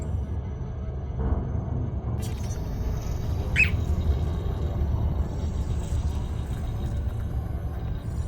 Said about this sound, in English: Oh god, tiny bird noises.